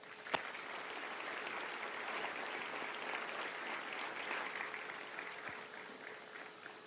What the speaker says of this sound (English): a round of applause for our recruiters and combat instructors